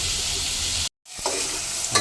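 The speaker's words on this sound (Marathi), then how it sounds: "चांगला लाल तांबूस होईपर्यंत ढवळत राहायचा, भाजत राहायचं आहे," Onion stirred and fried in a pan for a mutton dish, a steady close sizzle with scraping stirs, briefly cut to silence before the frying resumes with a sharp clink near the end.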